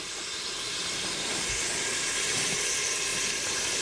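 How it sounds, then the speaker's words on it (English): Food fries in a pan inside an RV kitchen during prep for navy bean soup, giving a steady, dense broadband sizzle that holds at an even level throughout with no talk over it. "So now we're getting a little sizzle in there,"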